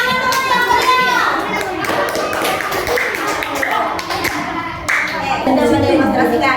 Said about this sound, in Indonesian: Tepuk tangan untuk yang meriah.